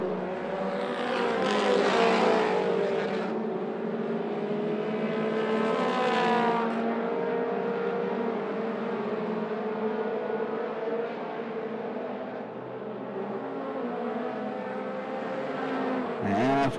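Mini stock race cars scream around 411 Motor Speedway, engines droning loudly with rising and falling pitch as several cars pass close by, a continuous roar of the field at full speed under a faint announcer voice.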